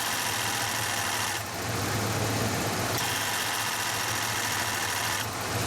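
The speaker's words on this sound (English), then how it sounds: "the compressor's got to be running to pull the gas in" Car A/C compressor running while drawing in refrigerant gas, a steady close engine drone with continuous mechanical hum and hiss, shifting slightly in tone as it cycles.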